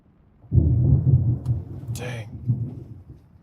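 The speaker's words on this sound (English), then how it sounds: "Thunder's loud." Thunder during a storm outside, a loud low rumble that rolls in abruptly and carries on for several seconds, with a brief higher-pitched sound partway through.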